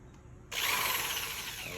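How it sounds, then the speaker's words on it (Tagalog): An electric motor suddenly whirs to life and keeps running with a steady, high-pitched whine, close by. "Test lang natin kung gumagana yung motor niya."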